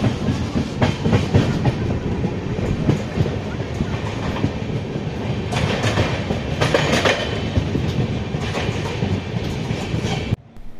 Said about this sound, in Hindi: हमारी ट्रेन लखनऊ में अराइवल कर रही है।